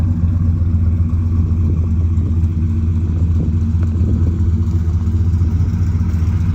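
Car exhaust idling with a Flashark electric cutout closed and MagnaFlow dual tailpipes, a loud steady low rumble with a slight mechanical clatter, close up and without talk.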